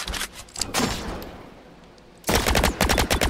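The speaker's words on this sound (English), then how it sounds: "Oh, that was a shot over that way" Gunfire in the video game Robot Explorer: a loud burst of shots, a quieter stretch, then rapid volleys of repeated shots crowding the end, with no talk.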